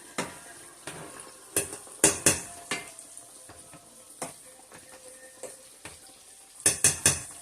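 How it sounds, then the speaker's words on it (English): Boiled potatoes are mashed in a pot, producing repeated clanks and scrapes of a masher against the metal in an irregular rhythm, with a few loud knocks and a faint sizzle of frying pork chops nearby. "So I'm gonna go in and mash these potatoes."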